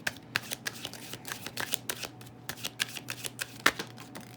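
Tarot cards being shuffled close up, a quick run of crisp, rhythmic riffling snaps and flicks that continues steadily throughout.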